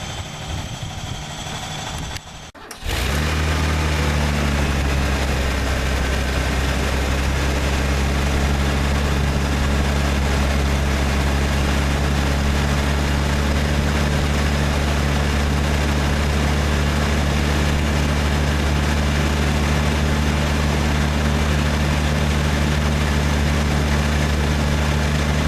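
A car engine fires up after a brief crank and then runs at a loud, steady idle. The low droning hum holds close and unchanging for over twenty seconds, with no voices.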